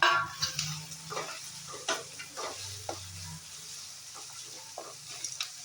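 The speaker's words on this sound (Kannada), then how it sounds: "ಕರಿಬೇವಿನ ಸೊಪ್ಪು ಹಾಕ್ಕೊಂಡು ಚೆನ್ನಾಗಿ ಫ್ರೈ ಮಾಡಿಕೊಂಡು" Curry leaves and onion frying in a pan for avalakki chitranna, a soft steady sizzle broken by repeated scraping stirs and light clicks of a spatula, close and fairly quiet, no talk.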